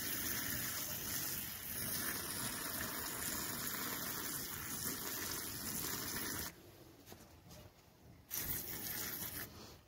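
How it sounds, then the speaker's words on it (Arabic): Water pours steadily onto small cups of freshly sown Italian mint seed, a continuous close splashing gush that drops off briefly near the end before resuming. "النعناع الايطالي هنعمل نفس الطريقة كده، هنسقي مية"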